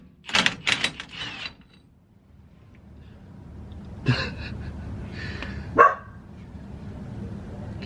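Dogs bark in short bursts during work on a 14 bolt axle with a 1410 yoke swap, with a few sharp barks early and a couple more later, fairly close, over a quiet background.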